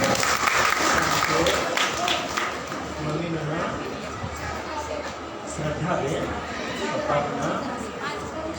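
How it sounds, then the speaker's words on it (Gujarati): A crowd at a gathering breaks into loud, sustained applause to welcome a speaker, dense clapping that stays steady throughout with chatter and voices mixed in. "જોરદાર તાળીઓથી સ્વાગત"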